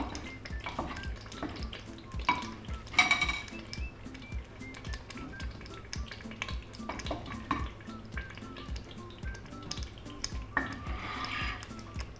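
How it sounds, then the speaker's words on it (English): Onions being stirred in a pan for chicken mole, with steady soft scraping and gentle clinks of a utensil over a low sizzle and a wet, bubbly background. "Give it a little mix so the onions incorporate nice and evenly."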